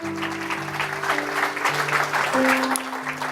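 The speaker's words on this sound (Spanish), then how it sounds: "Dale un aplauso fuerte al Señor." A church congregation applauds during a Spanish-language worship service, a steady patter of clapping spread across the room over sustained organ or keyboard tones.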